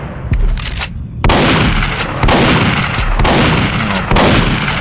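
A hunting rifle fires in the S&Box Shoot House video game: four loud, booming shots spaced about a second apart, each with a sharp crack and a long rumbling tail, heard alone without talk.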